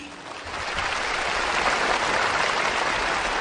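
Enthusiastic applause from participants at a North Korean pledge-adoption gathering, a dense, loud, continuous roar of many hands that swells slightly and holds steady.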